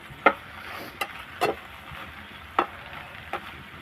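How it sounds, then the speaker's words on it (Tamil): Okra is sautéed uncovered in oil with onion, and a spoon stirs it in the pan. About five sharp scraping knocks land at uneven intervals over a soft, steady sizzle. "மூடி போடாமல் இதே மாதிரி எண்ணெயிலே நல்லா வதக்குங்க."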